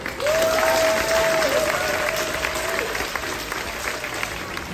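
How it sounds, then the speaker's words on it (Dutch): An audience at a judo school club championship claps steadily and fairly loudly, a sustained wash of hands that fades slightly toward the end, with a brief whistled or sung tone early on. "Applaus!"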